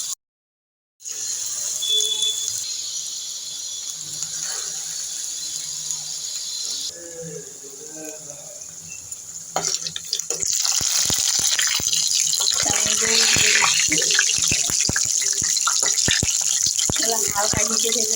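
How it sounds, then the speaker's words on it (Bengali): Radish-greens pakoras dropped one by one into hot oil set up a rising, crackling hiss after a quieter start, the frying growing denser and louder and carrying steadily to the end. "তেলটাও গরম হয়ে গেছে, এক এক করে সব দিয়ে দেবো।"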